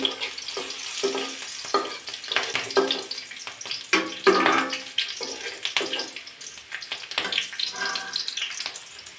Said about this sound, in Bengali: এখন তেলটা গরম হয়ে গেছে এখন দিয়ে দেবো পেঁয়াজ কুচি কারণ পেঁয়াজটা একটু ভালো ভাজি করে নেব